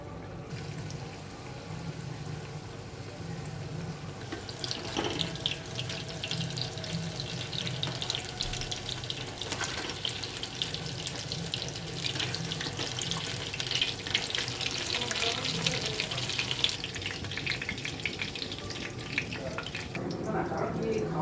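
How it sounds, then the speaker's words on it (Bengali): Chicken pakoras fry in hot oil, giving a continuous hissing sizzle that swells into a brighter, busier crackle after a few seconds and holds steady to the end. "এবার পাকোড়াগুলো গরম তেলে দিয়ে দেবো"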